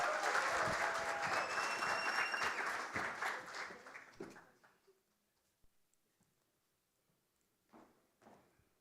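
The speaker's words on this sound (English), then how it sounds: "A round of applause for Gabi!" An audience applauds for a singer at a community gathering, a dense burst of clapping with some whistles for about four seconds that fades into near silence, followed by faint scattered sounds.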